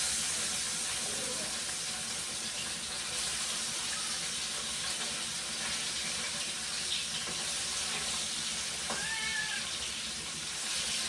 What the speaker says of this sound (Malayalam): നമുക്ക് ആദ്യം തന്നെ ഒരു അയലേനെ ഇട്ട് കൊടുക്കാം കേട്ടോ വറക്കാൻ വേണ്ടിയിട്ടുള്ള